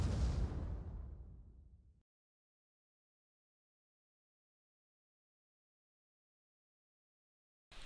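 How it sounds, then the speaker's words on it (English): Mortar fire in a team video game match between ships: a single loud, close blast that rolls off and fades over about two seconds, followed by silence. "Here comes the mortars."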